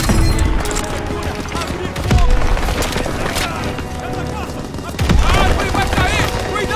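Gunfire rattles through a Call of Duty WWII factory battle against a Panzer, bursts of shots and booms rising twice in loud waves while soldiers call out over the noise.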